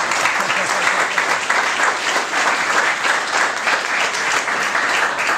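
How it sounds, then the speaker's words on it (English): Audience applause at a firehouse dedication ceremony, steady and dense clapping from a crowd that holds at an even level for the full stretch without a break. "Let's hear it for John"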